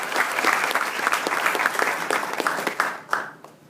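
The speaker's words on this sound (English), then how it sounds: "I'd just like us to give him a round of applause." An audience at a presidential address breaks into a round of applause, a dense, loud burst of many hands clapping together that carries on evenly and then trails off with a few last scattered claps.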